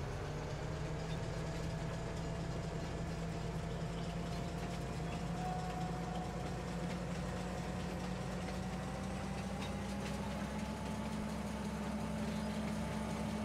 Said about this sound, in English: This is a lovely train.